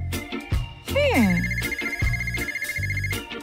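A telephone rings loudly and close in a cartoon setting, a bright electronic ringtone with a rising chirp and sustained tone mixed with music and voices.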